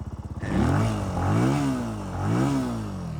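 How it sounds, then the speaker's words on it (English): A Benelli TNT 135 motorcycle engine sputters to life, then revs up quickly several times in rising and falling whines, close and loud. "Motor's really responsive. It revs up nice and quick."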